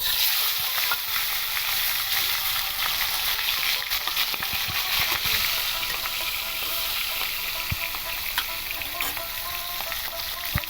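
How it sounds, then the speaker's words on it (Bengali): Fish heads fry in hot oil in a pan, a loud, continuous sizzle full of sharp crackles and pops that holds steady throughout with no talking. "আমার তেলটা গরম হয়ে গেছে আমি মাছের মাথাগুলো দিয়ে দেবো ভালো করে ভাজতে"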